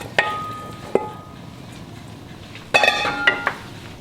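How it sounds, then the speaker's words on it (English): Canned chickpeas tip into a pot of chana masala, with sharp metallic clinks of a utensil against the pot, a longer clattering rush of pouring and scraping, and a couple of final taps. "We're gonna add our chickpeas now"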